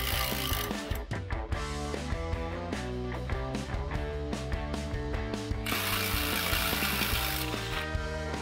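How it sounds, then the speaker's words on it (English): Ratchet wrench clicking steadily as nuts are removed from the steering system of a 1983 Jeep Wagoneer during a front axle teardown, loud and close with rhythmic pawl ticks throughout and no talking. "Now we'll just go around and remove the nuts from the rest of the steering system."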